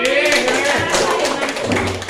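A primary school class claps hands together in a classroom, a quick run of sharp, close claps mixed with children's voices talking over them.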